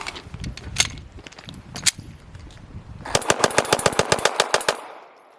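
A machine gun firing its final burst at the end of a 3,000-round shoot, loud close rapid shots in a tight string of about a dozen evenly spaced cracks, after scattered clatter and rustling, then cutting off abruptly.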